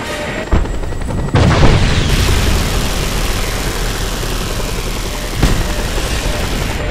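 A missile explosion in Just Cause 2 lands as a heavy boom, followed by a second blast and then a sustained, loud engine-like rumble that persists throughout.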